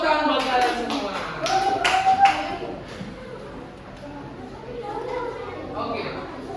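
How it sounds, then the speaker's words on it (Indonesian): Fifth-grade pupils in an Indonesian elementary school classroom break into a short burst of brisk applause lasting about two seconds. Scattered chatter and a teacher's voice follow. "Tepuk tangan buat kalian semua."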